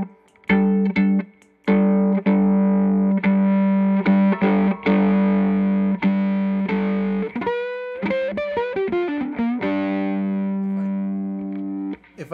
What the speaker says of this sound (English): Here's the tube screamer.